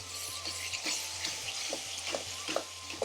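Curry base gravy bubbling and sizzling in an aluminium pan, with soft stirring scrapes at an irregular pace, heard close up at low volume.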